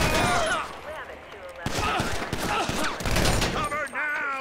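Rapid bursts of automatic gunfire crackle through a Grand Theft Auto V police chase, dense overlapping shots close by, with shouting voices mixed in among the volleys.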